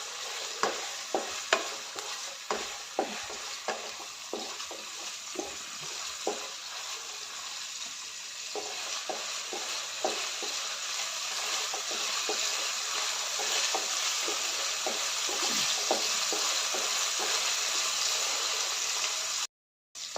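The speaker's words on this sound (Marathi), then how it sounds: "आता कांदा आणि टोमॅटो चांगला परतून घेते कांदा आणि टोमॅटो चांगले लालसर होईपर्यंत परतून घ्यायचं आहे" Onion and tomato fry in a pan, a steady sizzle running throughout with repeated sharp scrapes and clatters of a spatula stirring, fairly quiet and close, with no talking.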